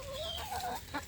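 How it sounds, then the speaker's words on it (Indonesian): Young free-range village chicks in a netted pen cheep in thin, rising peeps, with a hen clucking low beneath them, close and steady over about a second. "Jadi hanya ayam kampung, anak ayam kampung yang seumuran ini."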